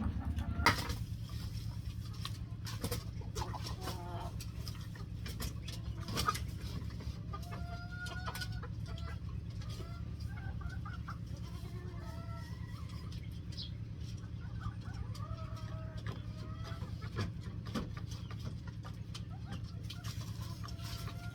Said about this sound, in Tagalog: Ito nga ang aming munting kulungan ng aming mga alagang inahin